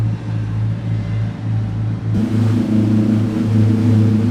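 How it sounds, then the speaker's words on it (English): Boat engines run hard at full power while heading through an inlet toward a marina, a loud steady low roar with a rising rumble partway through, no talking. "we're blowing out our engines"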